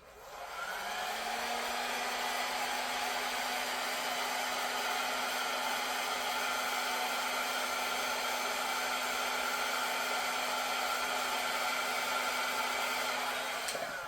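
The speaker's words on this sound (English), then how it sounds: "I'm going to blow on the center just a little bit so if I can get those cells to get a little bit bigger" An electric blower or hair dryer runs at a constant loud whir, pushing air across wet paint on a canvas to spread the cells in an abstract pour painting. It stays steady for the whole stretch with no talking.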